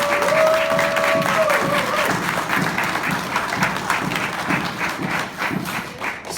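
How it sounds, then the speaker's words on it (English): An audience at a furmeet closing ceremony claps loudly and continuously, a dense, close wash of hands throughout. A brief voice is heard at the very start. "I'd like to have one moment for a round of applause for all of the animal control people"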